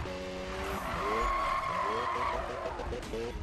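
Car tires squeal and skid through a drift in Need for Speed 2015, a loud wavering screech over engine noise, with a voice talking underneath.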